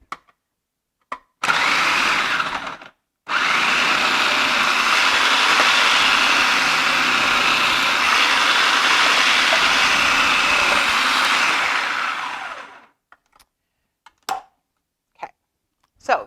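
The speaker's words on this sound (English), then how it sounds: "I'm just going to use my processor to process the zucchini" A food processor chops zucchini in two bursts, a short pulse and then a long steady whirring grind of about nine seconds, loud and close with no talk over it.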